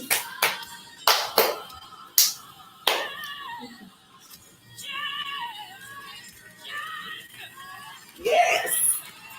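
On a radio show, a handful of sharp, close hand claps land in quick bursts, then fade into talking and light laughter.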